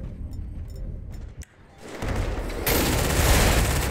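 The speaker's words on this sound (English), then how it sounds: "Tanks are blowing up" Tanks exploding amid gunfire in the video game GTA: scattered shots at first, then heavy blasts building into a loud, continuous roar of explosions and rapid fire.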